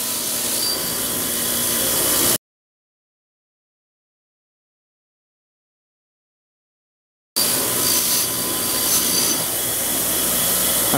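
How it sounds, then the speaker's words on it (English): A wire brush scrubs rust off an old cross pein hammer head. Close, scratchy rubbing fills two stretches, and a dead-silent gap sits between them. "I'm gonna start with just a wire brushing just to see what we got underneath the"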